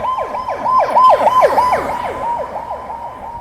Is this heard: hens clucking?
no